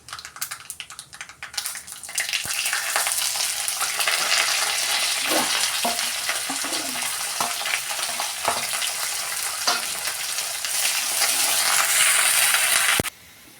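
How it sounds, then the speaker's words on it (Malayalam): Chopped garlic, green chili and curry leaves fry hard in hot oil for a bitter gourd pickle, a loud steady sizzle with faint scraping of a spoon stirring the pan. "ഇതിലേക്ക് അരിഞ്ഞു വെച്ചിരിക്കുന്ന വെളുത്തുള്ളി, പച്ചമുളക്, കറിവേപ്പില ഇതെല്ലാം കൂടെ ഇട്ട് മൂപ്പിച്ചെടുക്കാം"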